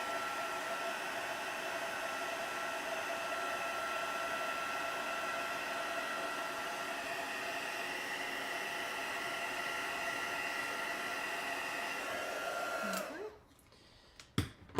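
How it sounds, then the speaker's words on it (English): Embossing heat tool blowing hot air, a loud steady close whooshing rush with a motor whine that runs continuously before switching off near the end, followed by a few handling knocks. "Now I have to move this because it'll get blown away by the heat tool."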